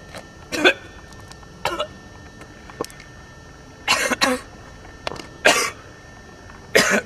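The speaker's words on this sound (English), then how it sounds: "Calvin suffered from a very severe cough." Severe coughing fits, one person hacking in separate harsh bursts, six or so loud, close coughs spaced a second or more apart with quiet gaps between them.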